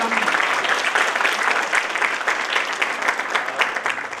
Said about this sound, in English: I would like to request Mr. Aditya Sharma with a huge round of applause